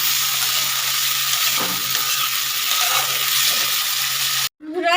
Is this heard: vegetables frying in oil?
yes